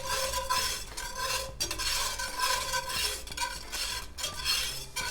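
Cold butter cut into pats is whisked into a pan sauce over low heat, producing a rapid, continuous metallic whisking against the pan with a brief pause, close and loud, with no talking.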